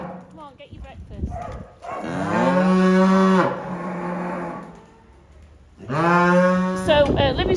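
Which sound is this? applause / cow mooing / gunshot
cow mooing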